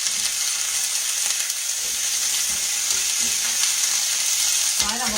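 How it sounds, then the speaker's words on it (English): Squash and red peppers sizzle in a stir fry cooked without a wok, a steady dense frying hiss running loud and close throughout, with faint stirring clicks near the end. "You don't have to have a wok to do stir fry."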